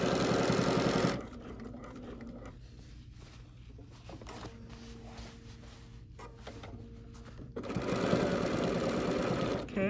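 A BERNINA L 850 overlocker stitches a bag handle in loud, close, continuous bursts, one at the start and another near the end, with a quieter stretch of lighter mechanical clicks in between.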